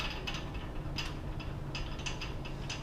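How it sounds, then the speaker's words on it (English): A hand ratchet clicks in quick bursts while hub bolts are driven back into a Jeep Wrangler JK front hub, the light metallic ticking sitting close over a steady low background hum. "And then just putting the hub bolts back in."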